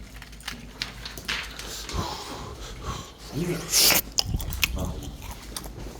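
Someone chews a restaurant's signature dish in close, moist bites and crunches, with a loud snort or sniff partway through and brief murmurs of talk nearby.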